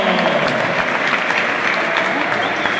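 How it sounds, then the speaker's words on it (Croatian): An awards gathering at an underwater spearfishing competition fills with sustained, even applause from a crowd, steady throughout with a voice mixed into the clapping. "Ajmo još jedan aplauz za ono ugora"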